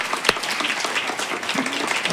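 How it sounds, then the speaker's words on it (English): Audience applause fills a meeting room at a candidates forum, a dense wash of clapping hands that carries steadily with no talking over it. "Can we give them a round of applause?"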